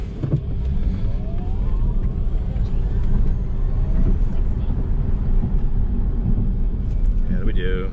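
A 2021 Tesla Model S Long Range electric car accelerates hard, a steady, loud rumble of road and motor noise that builds and holds throughout, with voices talking over it inside the cabin.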